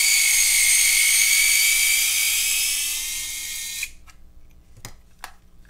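A power driver fitted with a Torx T10 bit whines steadily and loudly while backing screws out of a battery adapter for Ryobi tools, then stops abruptly, followed by a few short clicks and taps.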